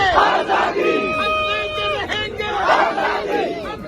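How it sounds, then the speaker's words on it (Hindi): Outside Adiala jail, a protest crowd of supporters loudly chants slogans in unison, rhythmic shouted phrases rising and falling in waves, with the massed voices close and continuous throughout. "कुछ लोग ताली बजाकर वहां नारे लगाते भी नजर आए।"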